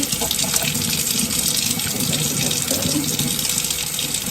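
Tap water gushes steadily, rinsing leftover pulp out of a part from a TUUMIIST juicer under a sink, a continuous close splashing flow with no voices.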